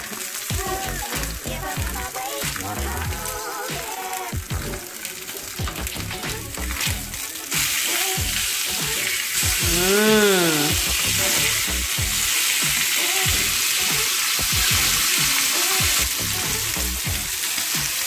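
Steak fries in a pan with a loud, continuous sizzle and crackle. The sizzle grows denser midway through and carries on steadily, with some faint background sound underneath.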